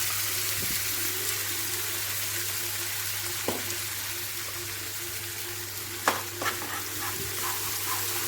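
Paneer black pepper gravy sizzling and frying in a pan, a steady close hiss with occasional scraping stir knocks from a spoon against the pan.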